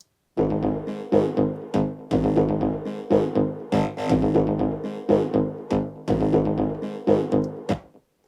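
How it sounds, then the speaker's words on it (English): A deep, steady bass line from a calypso track pulses in a repeating pattern with rhythmic note onsets, playing alone without voices at a full, even level. "so all the bass line together sounds like this"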